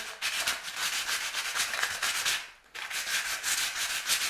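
Steady abrasive rubbing along a fishing rod spine from the tip, scuffing away the shine before epoxy, continuous strokes with a brief pause midway, close and fairly loud.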